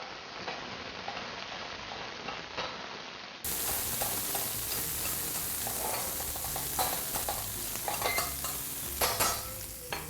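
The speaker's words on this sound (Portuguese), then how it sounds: "Cebola. Vamos continuar refogando." Onion sautéing in a pan gives a steady sizzle and crackle, with the stirring scraping along underneath. The sound grows noticeably louder after the first few seconds and keeps going continuously, with no talking.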